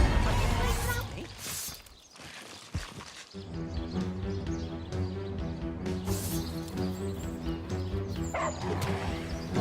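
A dog barks in the fantasy role-playing game Divinity: Original Sin, with a few yips and short whimpery barks set over a sustained game music bed and ambient noise, moderately close.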